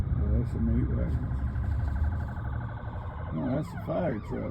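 An ambulance siren passes on a drive home through uptown Charlotte, a loud rising and falling wail mixed with road noise. Voices talk over it near the start and the end.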